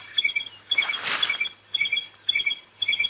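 Stierling's barred wren-warbler calls on a morning safari drive, with repeated bright, high chirping phrases in short bursts, one burst briefly masked by a soft broadband rush.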